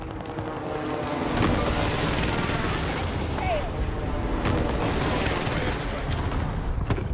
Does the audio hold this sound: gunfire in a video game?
yes